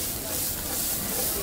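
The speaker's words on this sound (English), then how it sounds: "So I want my pan nice and hot. We're gonna add some of this sweet onion." Sweet onion goes into a hot pan for tomato concasse served on squid ink pasta, giving a dense, steady hiss of sizzling that fills the whole moment, close and constant.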